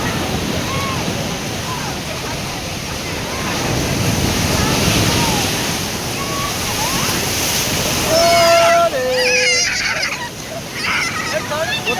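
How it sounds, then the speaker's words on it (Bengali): Strong sea waves roll in at the Puri estuary, a loud broad wash of surf with wind buffeting the microphone, swelling and easing continuously while a voice and whistle-like tones cut through near the end. "অত্যাধিক লেভেলের ঢেউ চলছে পুরী মোহনাতে"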